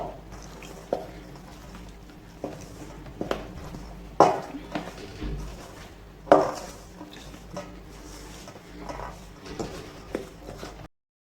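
A spoon stirs Jamaican Easter bun batter in a bowl, giving irregular close clinks and scrapes with two sharper knocks partway through over a low background hum.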